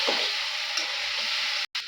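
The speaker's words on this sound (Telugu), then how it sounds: "అరటికాయ ముక్కలన్నీ వేసేసి ఆ పోపు అంతా ఆ ముక్కలకు పట్టేలాగా మనం కలుపుకోవాలి." Raw banana pieces frying in a pan with tempering as they are mixed, a steady, close hiss of sizzling oil with a faint stirring scrape and a brief break near the end.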